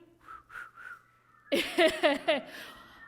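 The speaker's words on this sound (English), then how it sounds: "Does anybody have one last whistle they want to do?" Several short whistled tones at first, then a burst of louder, warbling whistles with breathy noise, like people whistling together up close during a church service.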